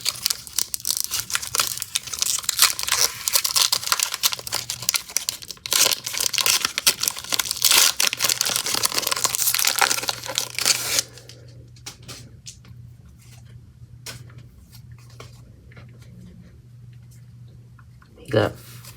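Pokémon card booster pack wrappers are torn open and crumpled close to the mic. Loud, dense crinkling and ripping fill the first half, then quieter scattered rustles follow, ending in one sharp crackle.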